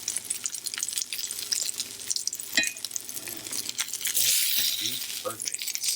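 Wagyu steak about half an inch thick, seasoned with salt and pepper, sears in a pan with a soft steady sizzle close by, a clink and some stirring, while a person talks over it.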